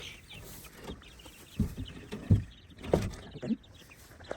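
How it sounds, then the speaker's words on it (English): Young chickens clucking softly nearby, a few short low clucks scattered over a few seconds against a quiet background. "Coming in to check on the chickies."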